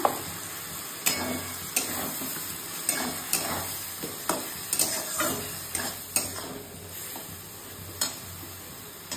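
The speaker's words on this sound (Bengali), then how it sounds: "একটু একটু কষিয়ে নিই, তারপরে জল দিয়ে দেবো।" A chili and poppy seed paste stir-fries with a constant sizzle, while a spoon scrapes and taps the pan in a fairly regular rhythm of close, crisp clicks.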